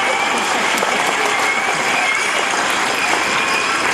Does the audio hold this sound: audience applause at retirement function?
yes